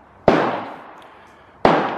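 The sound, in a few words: Ruger Precision Rifle bolt pushed forward and locked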